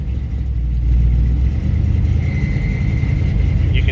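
A Buick engine just after startup runs close and loud with an uneven, stumbling low rumble from a misfire, steady throughout the clip.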